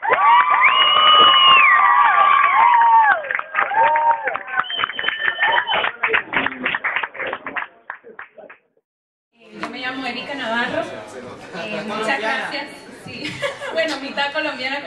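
Audience at Van Dykes Cafe cheering and whooping loudly to welcome a singer, a dense crowd roar with shouts for several seconds, a brief pause, then more crowd noise and voices.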